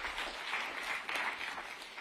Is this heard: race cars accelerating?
no